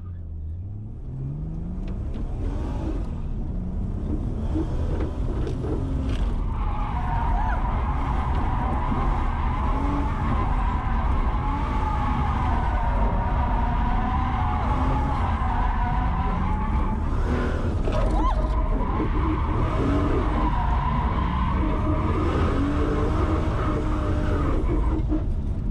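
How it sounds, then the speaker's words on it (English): Car in a drift taxi video game skids and drifts continuously, with steady engine roar and long squealing tire screeches rising and falling over about 25 seconds, loud and dense throughout. "Better go do some drifting."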